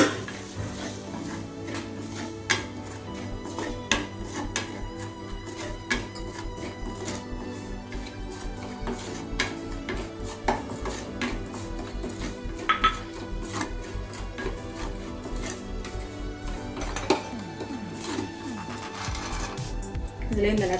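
Semolina roasting in a spoonful of ghee in a pan for coconut barfi, with a spoon scraping and tapping against the metal in an irregular rhythm over a steady low hum, close and moderately loud.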